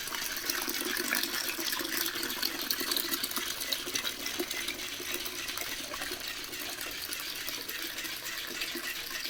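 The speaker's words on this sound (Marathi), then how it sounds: "आणि इकडे आपला धबधबा" A decorative indoor waterfall fountain runs with a constant, even rush of splashing water, close and steady, with no voices over it.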